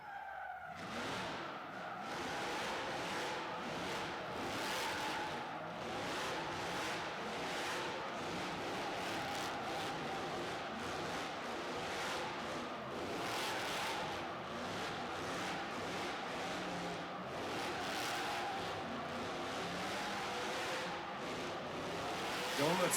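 BJ Baldwin's off-road trophy truck spins donuts, its tires skidding and screeching continuously over a steady roaring engine, loud and sustained throughout.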